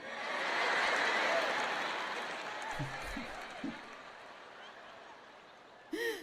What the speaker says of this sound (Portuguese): Acho que temos algumas palminhas.